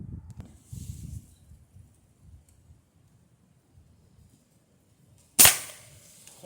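A .22 caliber Crosman pellet gun fires a single sharp crack into a ballistic gel rabbit, close and loud, after several seconds of faint rustling and handling.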